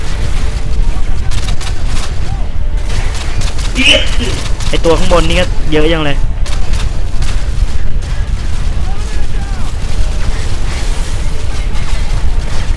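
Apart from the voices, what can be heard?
grenade explosions in video game Call of Duty Modern Warfare 2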